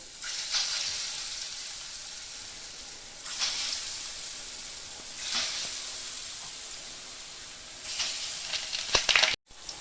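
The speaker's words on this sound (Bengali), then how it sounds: "ধোকাটা এভাবে আমি ভেজে নেব।" Dhoka lentil cakes fry in white oil in a kadai, a continuous sizzle that swells in several bursts as pieces are added or moved, then briefly cuts out near the end.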